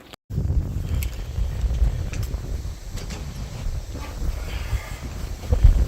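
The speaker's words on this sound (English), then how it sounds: "Pretty windy out here, by the way." Gusty wind buffets the microphone outdoors, a low rumbling roar that swells and eases with a few faint distant sounds in the gaps.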